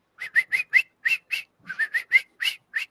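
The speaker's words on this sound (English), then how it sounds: "In the background, you hear regular birds just chirping away." Small birds chirp in quick, bright bursts, a steady run of short whistled notes repeating close by with brief pauses and no voices over them.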